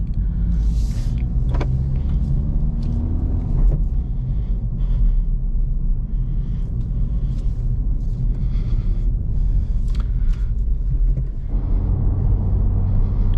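A 2024 Acura Integra Type S or 2023 Honda Civic Type R engine rumbles low and steady from inside the cabin, in comfort mode and third gear, with a few brief whirring and clicking noises, a motor surging near the end.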